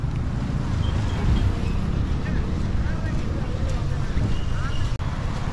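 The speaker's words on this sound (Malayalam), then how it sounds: "വെള്ളത്തിൻ്റെ ഒഴുക്ക് കൂടിയിട്ടുണ്ട്." Swollen floodwater rushes steadily in a continuous, loud, broad roar from a flood-hit area near Pala, partly mixed with wind buffeting on the microphone, with a voice speaking faintly underneath.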